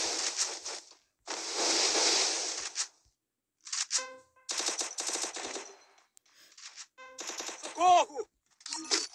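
Rapid automatic gunfire from a UMP submachine gun in a mobile shooter game, coming in loud bursts with short pauses, plus a few sharper electronic game effects near the end.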